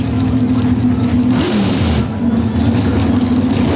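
Drag racing car engines at the 1994 NHRA Slick 50 Nationals, Warren Johnson's among them, hold a steady, loud rumble above idle with a sustained low drone and a brief pitch rise midway, continuous throughout.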